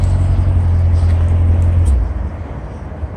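Close, loud low rumble from the exhaust of a 2015 Chevrolet Corvette convertible with stock mufflers, a deep steady idle tone that drops off about two seconds in to a softer rumble.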